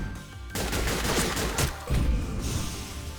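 Bursts of gunfire from the turn-based tactics video game Frozen Synapse 2, a sustained volley of loud, close shots with a second heavy burst about two-thirds through, no voices.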